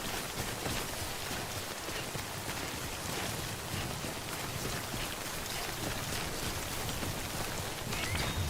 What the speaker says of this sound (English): I'm literally getting pissed on by aging rain